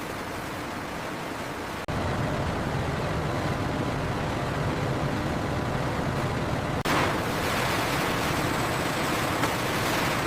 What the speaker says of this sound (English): High-pressure water washes the pulp again and again.